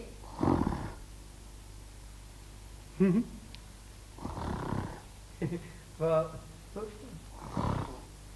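A man snores in a royal palace guest room in a classic television drama, with loud breathy rasping snores in three drawn-out bursts separated by pauses, mixed with other brief sounds.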